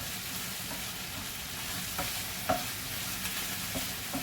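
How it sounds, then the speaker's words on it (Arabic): Chicken sizzles steadily in a frying pan while a utensil stirs it, giving a continuous close crackle with a few soft scraping knocks. "دابا انا نحرك هاد المقله هذه هي الاولى."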